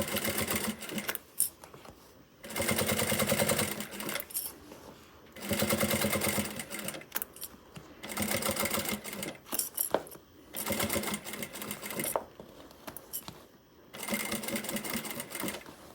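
A sewing machine stitches a quarter-inch seam on a fabric pouch, running in steady rattling bursts of a few seconds each, separated by short pauses, close and clear with no talking.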